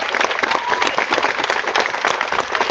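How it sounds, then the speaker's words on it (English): Dense crowd applause fills a vigil honoring Asian lives, steady many-handed clapping sustained loudly throughout with no break. "Let's give a huge round of applause for this young man who put this entire event together."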